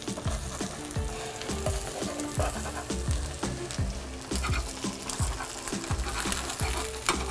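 Eggs frying over medium for breakfast sandwiches on a hot surface, a loud dense sizzle with crackling pops and repeated rhythmic thumps and scrapes throughout, no speech.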